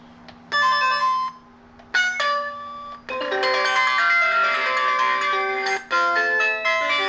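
A bright electronic chime plays a series of short melodic tunes, each ringing out clearly with brief pauses between them, over a faint steady hum.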